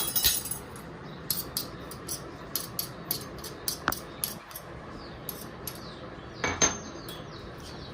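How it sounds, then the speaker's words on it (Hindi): Utensils clink sharply in a pan as crushed ginger and garlic are stirred in, scattered metallic taps across a steady background hiss, with one louder ringing knock near the end. "मैं अदरक लहसुन का जो मैंने कूटा था, तो वो भी मिला रही हूँ मैं"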